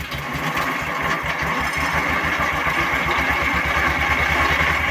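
A YUMZ 8280 tractor's engine chugs in a steady, rhythmic low throb, close and loud throughout with no pauses and no voices.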